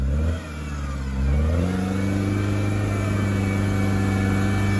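A Nissan Patrol off-roader fitted with a BMW M57 diesel engine idles, dips, then revs up and holds a steady, loud drone with a deep rumble, heard close with no voices.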